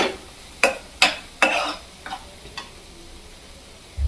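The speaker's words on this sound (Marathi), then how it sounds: "यामध्ये आता आपण तेलामध्ये परतून घेतलेले ओले हरभरे घालून घेऊयात" Fried green chickpeas tipped into a sizzling masala for a Vidarbha-style curry give three or four sharp scraping stir strokes over a faint fry hiss, then a few softer taps, close and with no talk.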